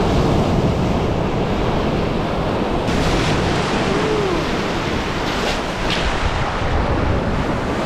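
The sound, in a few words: waves on a Lake Superior beach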